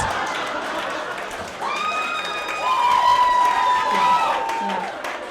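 A stand-up comedy crowd breaks into cheering and whooping, with shouts and a sustained high whistle riding over broad applause that swells midway.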